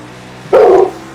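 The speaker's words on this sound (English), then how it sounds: "So my dog's barking." A pet dog gives a single loud, close bark that sits against a quiet background.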